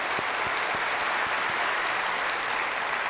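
Steady, dense applause from a church congregation at a live Christmas service, sustained and even throughout with scattered individual claps standing out near the front.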